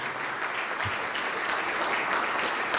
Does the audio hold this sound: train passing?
no